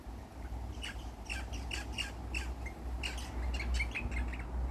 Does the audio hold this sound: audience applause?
no